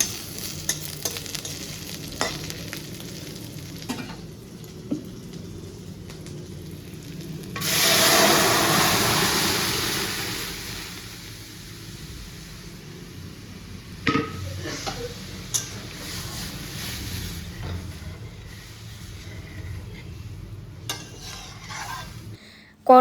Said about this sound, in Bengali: আর আলুগুলো আগে ভেজে তুলে নেব